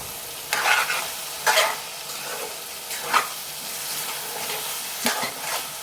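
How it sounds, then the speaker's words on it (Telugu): A spoon stirs ridge gourd curry in a pan, producing several scraping, sizzling strokes at an irregular pace over a constant frying hiss, close up with no talking. "ఇప్పుడైతే మంచిగా కలుపుకోవాలి"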